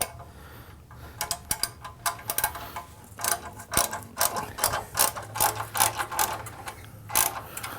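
A ratchet wrench loosens cover bolts on a 2017 BMW R1200GS Adventure motorcycle, clicking in quick close rapid bursts of pawl ticks, repeated stroke after stroke with brief gaps and no talk.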